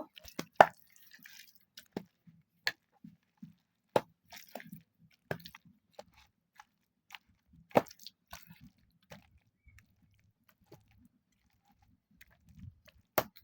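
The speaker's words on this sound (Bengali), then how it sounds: "আমি এবার টমেটোগুলো ম্যাশ করে নিব" Cooked tomatoes being mashed for onion-stalk bharta, soft wet squishes and small clicks coming in sparse irregular bursts, close and quiet against near silence.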